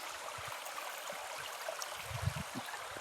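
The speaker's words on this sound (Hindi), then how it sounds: "ये झरना देखिए, यहाँ से आप एकदम नीचे से ही पानी निकल रहा है।" A spring-fed stream flows out from beneath rocks in a forest in Chitrakoot, a soft steady rush of water with small low gurgles and splashes, heard close and fairly quiet.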